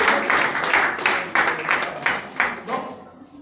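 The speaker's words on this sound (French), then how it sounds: "donc on acclame celui qui a l'âge de David" A church congregation claps in a steady rhythm, with bright, close hand claps repeating at an even pace before trailing off near the end.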